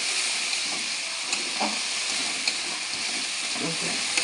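Spice paste sautés in a pan over medium gas, giving a steady close hiss of frying with occasional soft scrapes and taps of a stirring spoon.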